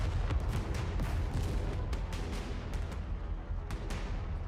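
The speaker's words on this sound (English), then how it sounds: "An explosion rings out, causing the surroundings to shake" Explosions in the video game Goddess of Victory: Nikke, a loud, dense barrage of booms and sharp blasts rumbling continuously with repeated bright cracks, with no talking.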